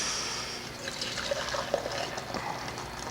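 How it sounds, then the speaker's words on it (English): Boiling water pours steadily into a measuring cup in a home kitchen, a continuous close hiss-like liquid rush with slight gurgles, no talking. "2 cups of boiling water."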